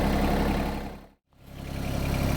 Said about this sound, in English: I'm digging out with the tractor